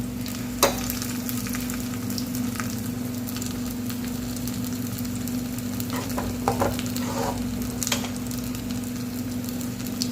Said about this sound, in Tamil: பாருங்கள், தாளிப்பு வந்து இப்போ ரெடி ஆகிட்டுருக்கு.